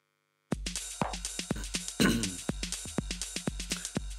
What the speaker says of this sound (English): And the distortion sounds soloed, sounds like this.